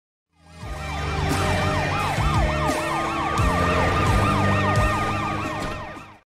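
A loud wailing ambulance siren sweeps up and down repeatedly, close and continuous, with several emergency tones overlapping for several seconds.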